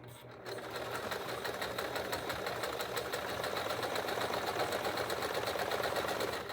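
A sewing machine runs in one continuous rapid stitching burst as it sews fabric for a mason jar cover, the needle's fast even chatter close and steady for several seconds before stopping.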